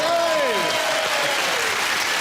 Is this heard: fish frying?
no